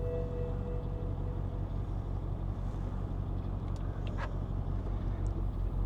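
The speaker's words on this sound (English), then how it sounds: "We'll just let it continue to idle comfortably." A BMW X6 idles steadily with a low, even engine rumble heard from nearby, a constant drone with a few faint clicks and no speech.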